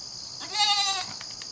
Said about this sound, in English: So these are the first goats that we've ever had.